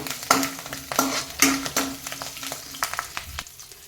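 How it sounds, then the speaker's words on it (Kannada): Curry leaves fry in hot oil in a pan, sizzling close by under frequent metallic stirring clinks and scrapes that come in quick, uneven strokes. "ಇದನ್ನು ನಾವೀಗ ಎಣ್ಣೆಯಲ್ಲಿ ಫ್ರೈ ಮಾಡಬೇಕಾಗುತ್ತೆ ಚೆನ್ನಾಗಿ"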